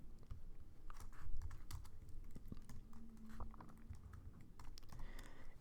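Quick, uneven typing on a computer keyboard, with soft close key clicks and taps clustered in bursts across several seconds, faint and with no voice over it.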